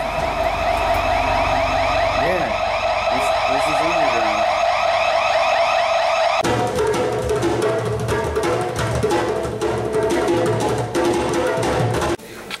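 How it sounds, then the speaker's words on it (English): A building's security alarm blares with a loud, steady electronic wail that shifts into a harsher pulsing tone partway through, and a voice speaks briefly over it. "this is what it sounds like when you set the alarm off"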